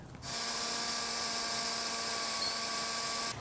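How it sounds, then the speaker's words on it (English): A power drill spins a 1000 grit sanding disc against a hazy, yellowed car headlight, giving a steady, loud, even whir with a high mechanical whine that holds for about three seconds before stopping. "we're going to actually just start off with our 1000 grit sand disc"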